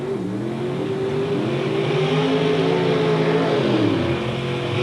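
Drag race cars at the 1984 Mountain Motor Nationals at Budds Creek, Maryland, a Mercury Capri and an Oldsmobile, launch with a loud, sustained engine roar whose pitch rises and wavers steadily for several seconds.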